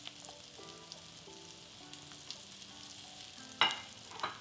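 Shrimp fry in oil in a pan for garlic butter shrimp, a faint, steady sizzle with a few louder crackles and pops near the end, no talk.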